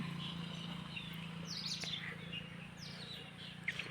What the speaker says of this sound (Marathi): आणि पक्ष्यांचा आवाजच बघा किती राहतो, दिवसभर आवाज राहतो यांचा